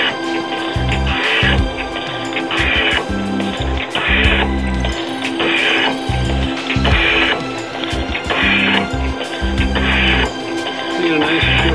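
An Atlas 7B metal shaper drives a round nose high speed steel cutter through A2 tool steel, repeating regular stroke cycles of low mechanical thumps and ratcheting clicks, close and loud with a voice occasionally over it.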